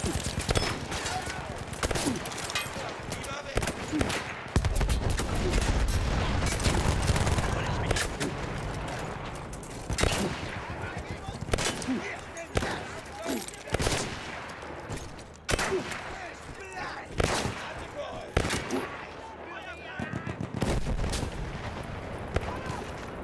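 Dense, sustained gunfire and explosive blasts in a war video game, shots cracking in rapid bursts and overlapping volleys from near and far, with voices talking over the battle throughout.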